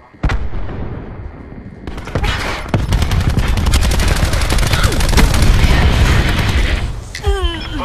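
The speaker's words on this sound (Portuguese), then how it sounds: "Jogando granada de dispersão" Cluster grenade explosions and rapid gunfire in Call of Duty Black Ops 4, loud and sustained, with booms and dense bursts of shots, then a short electronic chirp at the end.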